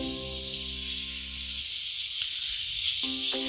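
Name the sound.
onions frying with garlic ginger paste in a pan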